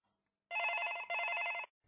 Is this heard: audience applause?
no